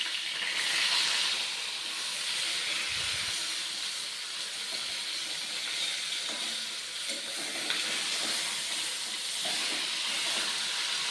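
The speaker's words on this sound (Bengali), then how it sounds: "মাছটা ভাজছি আর কি, মাছটা ভাজার জন্য সাদা তেল দিয়ে দিলাম" Pieces of shol fish fry in white oil in a pan, giving a steady broad sizzle and hiss that carries on without a break, with a few soft knocks and no talking.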